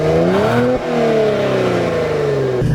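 A 2018 Kia Stinger GT revs hard, its exhaust note rising in pitch, briefly dropping at a gear change or throttle lift, then sweeping back down before climbing again, loud and close with no talking.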